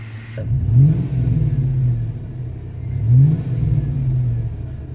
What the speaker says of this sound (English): But it's got a good little rumble to it now.